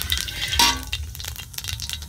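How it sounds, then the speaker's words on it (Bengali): White cumin seeds dropped into hot oil for tempering a mutton fried rice dish hiss and sizzle sharply, a brief, close, bright crackle that fades into a softer fizz. "আর আমি সাদা জিরাটা বলিনি, এখন দিয়ে দিচ্ছি সাদা জিরাটা সম্বরের জন্য।"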